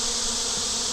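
Honey bees buzz in a dense, continuous drone at a hive on a hot day, a loud, steady swarm hum close by without pause.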